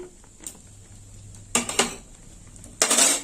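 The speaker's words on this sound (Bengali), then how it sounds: "আর একটু ভালো করে নেড়ে চেড়ে নেব" A spoon stirs a hog plum sour dish with poppy-seed paste in a pan, giving three bursts of scraping and clinking: a short tap, a louder double scrape, and a final sustained clatter. It is close, with quiet pauses between the bursts.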